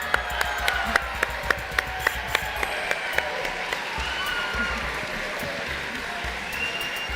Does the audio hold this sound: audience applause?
yes